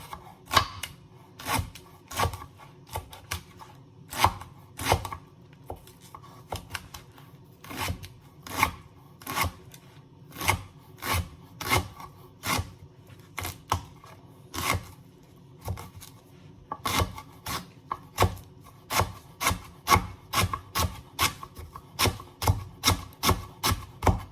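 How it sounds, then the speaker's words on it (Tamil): Knife chopping leeks into small pieces on a board for chicken fried rice, a long run of steady, crisp close-up cuts in quick regular rhythm, with no voices. "லீக்ஸை வந்து குட்டி குட்டியாக வந்து கட் பண்ண போகிறேன்"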